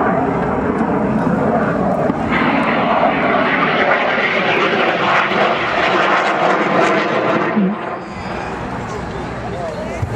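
A loud, roaring rocket engine on a Rocket Racing League racing plane drones steadily at a flight demonstration in Tulsa, with muffled voices underneath, then the roar eases and drops near the end.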